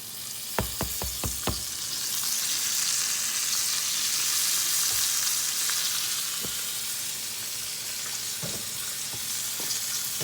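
Flour-dredged pieces frying in a skillet: a steady, close, bright sizzle fills the whole stretch, opened by a quick run of sharp clicks and knocks as pieces go in, with a few more scattered taps later and no talk.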